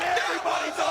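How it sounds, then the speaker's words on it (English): A wrestling arena crowd roars and yells in a sustained wave of cheering, with a dense, loud swell of voices that dips briefly and then rises again. "Oh, listen to the crowd. Everybody's on their feet."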